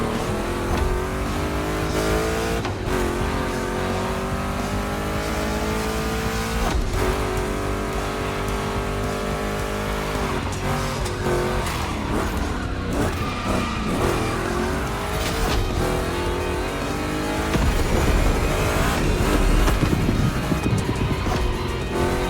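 Two Chevrolet big-block race car engines in The Crew Motorfest roar steadily at high revs, with rising and falling gear pulls and occasional tire squeal, loud and continuous.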